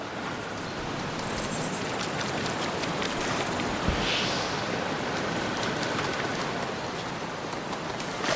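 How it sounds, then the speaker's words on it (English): A great waterfall in a video game rushes as a constant, dense wash of white water, steady and fairly loud from start to finish with no voices. "The great waterfall."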